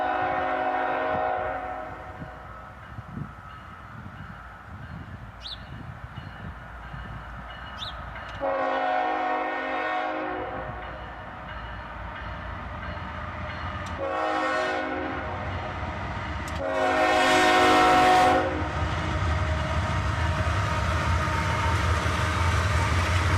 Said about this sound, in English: S44 ACHs lead this northbound train